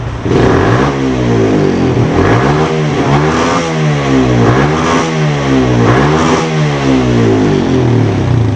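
A loud Yamaha X1R 135 motorcycle engine with an upgraded ECU and R15 upgrade revs hard past ten thousand rpm, rising and falling in repeated surges with a raspy, buzzing roar, close and continuous.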